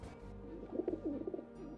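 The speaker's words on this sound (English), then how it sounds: "It was a pigeon." Pigeon cooing in the video game Garry's Mod during a prop hunt round set in a bank heist: a soft, close, rolling coo phrase with a few pulsing notes over a low game hum.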